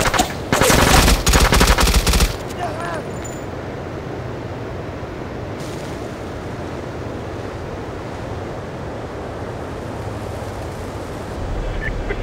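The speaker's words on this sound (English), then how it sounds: "I'm taking fire. Gotta engage." Automatic gunfire in the PSP game SOCOM U.S. Navy SEALs Fireteam Bravo 3, one loud, dense burst over about two seconds, then a steady windy outdoor ambience with no shots.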